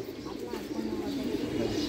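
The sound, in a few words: pigeons cooing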